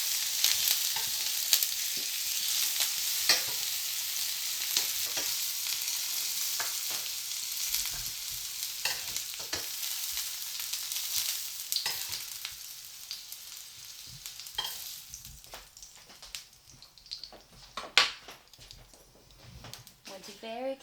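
Fruit sizzles in a hot pan, a continuous soft frying hiss with scattered pops and stirring clatter, while a person talks over it at moments.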